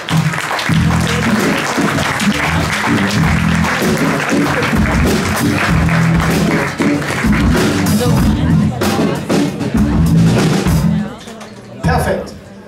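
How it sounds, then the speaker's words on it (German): A crowd applauds talent show finalists at a year-end final in a pool garden venue, dense sustained clapping with cheers and crowd murmur, loud and close, fading out near the end. "Applaus bitte nochmal für alle."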